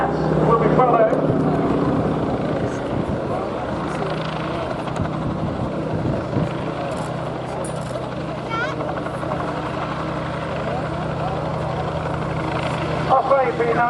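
At an air day at RNAS Yeovilton, an Osprey tiltrotor lifts off with a throbbing rotor drone and engine rumble, loudest at the start and easing as it climbs away, while a commentator talks over it.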